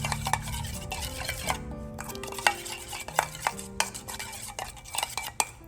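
Ingredients for baked salmon and mushroom being stirred together in a bowl, soft scraping and light clinks of a utensil against the dish, close and quiet, with no talking.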